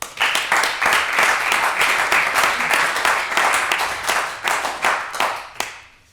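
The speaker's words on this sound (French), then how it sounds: "Applaudissements pour l'IESEG." Audience applause at a French parliamentary-style debate semi-final, welcoming the IESEG team: a loud, dense burst of clapping that fills the room and holds steady before tapering off near the end.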